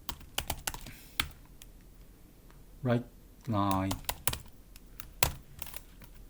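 Close keystrokes tap on a computer keyboard as code is entered, irregular clicks with a couple of brief hums in the background and a low room noise.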